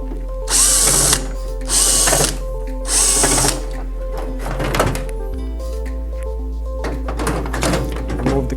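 A power drill backs screws out of an EdenPURE Gen 3 heater, three short whirring bursts close up, followed by handling clunks and a couple of fainter brief drill bursts.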